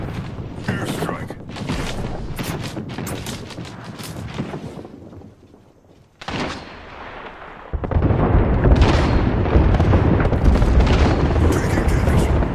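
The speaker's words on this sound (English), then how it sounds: "Airstrike." Heavy airstrike explosions from the video game Apex Legends on the World's Edge map, a series of loud booming blasts with rumbling tails, with a voice speaking over part of the barrage.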